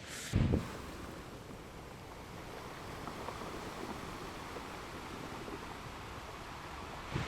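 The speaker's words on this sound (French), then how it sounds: "je mettrai pas le son vu qu'il y a trop de vent" Steady wind buffets the microphone outdoors by the sea in Spain, a broad rushing noise with a couple of louder gusts at the start and end.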